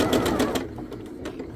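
A sewing machine stitches quilt block pieces together for a wonky log cabin block, with a quick burst of rapid mechanical needle clatter nearby that then stops, leaving quieter fabric handling sounds.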